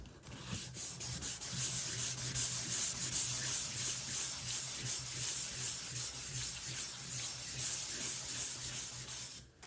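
Sandpaper rubs steadily over a freshly sealed wooden guitar body during a repair refinish, giving a close, continuous dry scraping hiss in quick back-and-forth strokes for the whole stretch.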